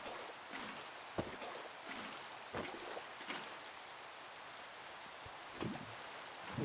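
Rain falling in Minecraft, a faint steady hiss with a few soft scattered drop taps, quiet and without talk.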